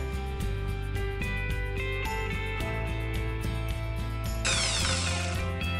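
A drill whirs steadily and loudly up close, enlarging a 3.2 mm hole in metal with a larger bit to taper it, with a rhythmic ratcheting grind and a sharper metallic squeal toward the end.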